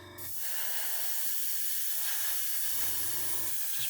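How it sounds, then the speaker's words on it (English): Steady airbrush hiss of thinned Mr. Surfacer Black paint sprayed at about 18 psi in a light dusting pass, a continuous close airy spray running for several seconds after a brief start, with a short low valve thump near the end. "just dust the paint on, not spraying it wet at all"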